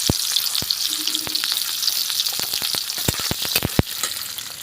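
Onions frying in hot oil for a meat curry give a steady close-up sizzle, broken by a handful of sharp clicks and scrapes from stirring, with no talk.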